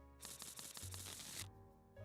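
A deck of cards being shuffled during a Cardfight Vanguard game, a quick burst of riffling flutters lasting about a second, close and fairly quiet.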